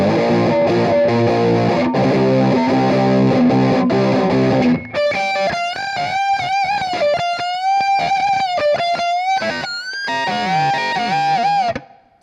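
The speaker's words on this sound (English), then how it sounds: "stomp on the Pinnacle for the big part on the distortion side, and let that kick" Electric guitar played through an Orange amp, first a dense heavily distorted chord passage, then shifting to sustained, pitch-bending distorted lead notes shaped by a Wampler Pinnacle Deluxe distortion pedal, loud and close with no voices.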